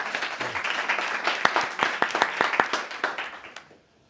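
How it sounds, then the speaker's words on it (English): A meetup audience claps for a speaker, a steady patter of individual hand claps with several sharp distinct ones, fading out at the end. "Another round of applause."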